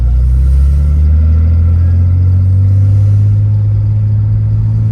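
A Nissan 300ZX twin turbo engine pulls while driving, a loud, continuous low rumble heard from inside the car, with the revs climbing gradually and holding steady throughout.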